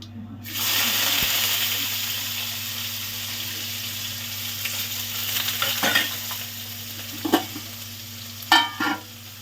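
Finely chopped onion and a stick of cinnamon fry steadily in hot oil, a continuous close sizzle with occasional stirring clatters near the end.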